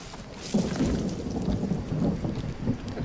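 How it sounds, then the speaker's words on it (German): Thunderstorm in the jungle survival game Green Hell: a steady wash of rain with low rumbling thunder rolling throughout, loud and continuous with no talk. "Da kommt schon wieder ein Gewitter."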